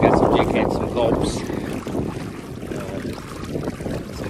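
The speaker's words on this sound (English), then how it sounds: "So it's super windy, and I don't know how well this is gonna show up, but I'm cruising." Strong wind buffets the microphone while a fishing boat cruises across the water, a constant loud roaring rush with water and hull noise underneath throughout.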